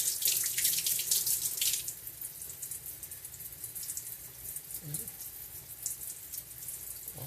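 Water runs steadily from a faucet into a sink while glass marbles are rinsed clean of rust stains, a continuous close hiss that is strongest for the first couple of seconds and then settles into a softer, even flow.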